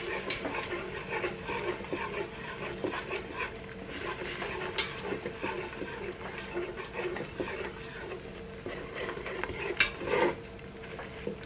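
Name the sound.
stirring flour and milk into a sauce in a pot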